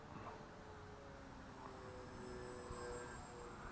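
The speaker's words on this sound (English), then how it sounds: "that's a really good flying airplane there." A radio-controlled model airplane drones steadily overhead, a faint, distant continuous engine whine with a slight rise and fall in level, no talk.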